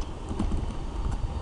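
Close computer keyboard typing runs continuously as a dense clatter over a steady background noise.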